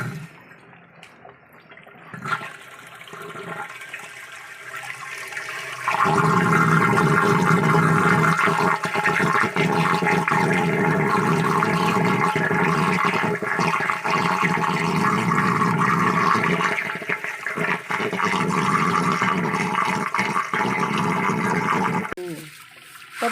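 Water gushes out through the opened bottom of an organic water filter, flushing dirt from inside; a quieter trickle gives way to a loud, steady rush that runs for most of the clip before cutting off.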